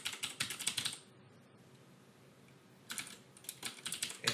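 Fingers clatter on a computer keyboard in two quick flurries of soft, close key taps, separated by a short quiet pause.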